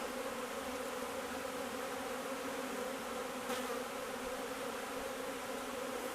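A dense, steady buzz of many honeybees in Northern Britain in spring, loud and continuous with no pauses.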